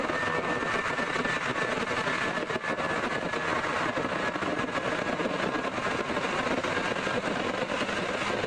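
An American Airlines Airbus A319 jet airliner roars at Seattle airport, a loud, steady broadband engine rumble and whine that holds without a break throughout.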